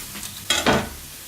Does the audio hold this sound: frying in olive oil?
yes